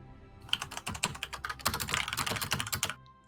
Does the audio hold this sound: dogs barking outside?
no